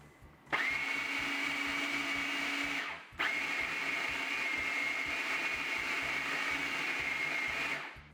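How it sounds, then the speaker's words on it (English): A food processor whirs loudly while mixing crumbly strawberry crumb bar dough, two steady high-pitched motor runs with a brief pause between, close and without talk. "A food processor makes this much easier."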